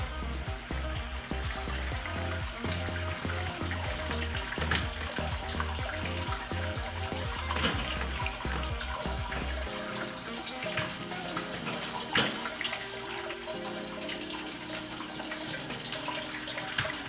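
Homebrewing liquid draining through a malt pipe, a continuous close rush and gurgle of flowing water with a low rhythmic pulsing in the first half, then a steady splashing flow.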